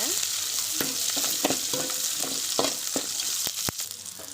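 Onions and curry leaves fry steadily in a pan, browning to golden, with a continuous close sizzle broken by several sharp spatula clicks and scrapes against the pan.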